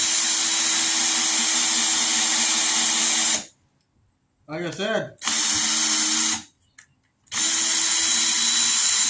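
Craftsman 20V cordless 10-inch chainsaw cutting red oak, a loud steady motor whine in long bursts separated by pauses, with someone speaking briefly between cuts.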